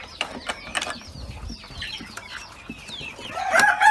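İspenç roosters and hens clucking in short, scattered bursts with some wing flapping, close by, before a rooster begins a louder crow at the end.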